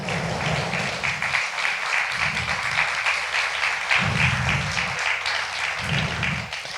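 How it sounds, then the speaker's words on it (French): A church congregation applauds steadily for several seconds, a dense, loud wash of clapping from many hands, with a faint lower hum pulsing underneath and no talking. "Est-ce qu'on peut l'applaudir?"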